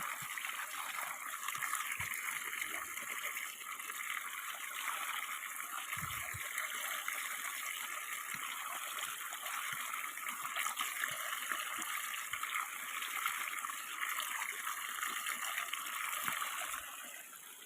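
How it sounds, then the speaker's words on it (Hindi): Steady rushing irrigation water flows continuously through a field, a constant broad hiss and gurgle with no breaks, with a few faint knocks underneath. "खेत में पानी देना चल रहा है।"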